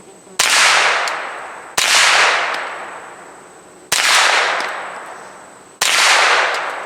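Four loud rifle shots fired through a Griffin Armament Paladin 5 suppressor outdoors, each a sharp supersonic crack followed by a long rolling echo, spaced roughly two seconds apart.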